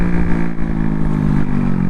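A Honda CB125R motorcycle engine buzzes steadily up close while riding, with the throttle being rolled off and back on without the clutch, giving slight dips and surges in the drone.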